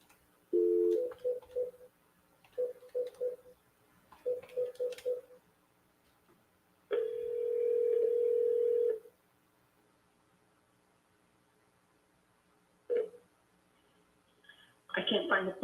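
A telephone rings somewhere in a room in bursts of short, warbling ring tones, then one long sustained tone, followed by quieter chirps and another loud burst at the end, with no talking.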